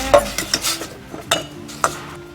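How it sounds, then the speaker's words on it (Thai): Curry paste stir-fried with a splash of water in a pan for a spicy Thai beef and eggplant dish, heard as irregular metallic clinks and scrapes of a spatula against the pan, close and fairly loud without talk. "ทีนี้ก็ผัดพริกแกงนะคะให้มีกลิ่นหอมๆออกมา"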